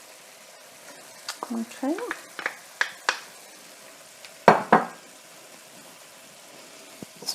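A spoon scrapes and stirs softened onions and beef mince in a pan for spaghetti Bolognese, giving a few separate clinks and scrapes over a low sizzle, with a brief word spoken partway through.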